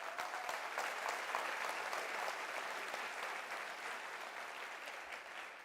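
Sustained applause from a graduation audience at the University of South Africa, a bright continuous wash of many hands clapping at an even, moderate level from start to finish with no speech.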